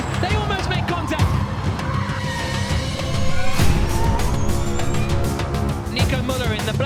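Formula E race cars at turn 1 in Mexico City, 2020: loud electric motor whine and squealing, skidding tires build into a harsh crash burst, with a commentator talking throughout.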